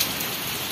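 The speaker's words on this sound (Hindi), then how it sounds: "पूरा जोर सोर बारिश हो छि" Steady, dense rain pouring down, a continuous loud hiss of drops hitting surfaces with no pauses and no voices.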